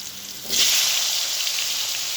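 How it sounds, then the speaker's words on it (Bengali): Potatoes frying in hot oil with turmeric, a steady close sizzle that swells louder about halfway through and then holds at an even, dense hiss. "আমি এবার আলুগুলো একটু ভেজে নেবো।"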